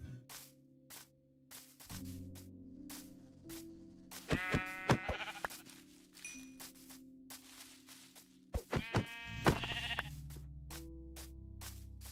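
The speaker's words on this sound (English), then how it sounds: "that yellow sheep's done some mileage. He's in the fucking oak forest now." Sheep in the Minecraft video game bleat twice in separate bursts, with other game sound effects behind them and steady low background tones throughout.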